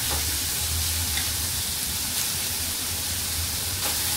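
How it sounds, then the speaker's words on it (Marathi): Onions frying in a pan for methi bhaji give off a steady, even sizzle that holds at the same low level throughout, with no voices. "कांदा चांगला फ्राय करून घेऊया।"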